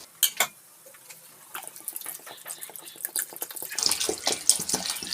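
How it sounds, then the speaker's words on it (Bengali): Water poured into a cooking pot for Bengali-style dalia khichdi, starting with a few sharp splashes, then building into a steady, louder gurgling stream close by. "এবার এর মধ্যে আমি জল দিয়ে দেবো।"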